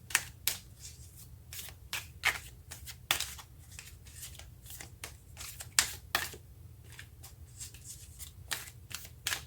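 Tarot cards laid face down one by one on a table, a run of crisp, irregular slaps and slides close by, quiet between the sharper snaps.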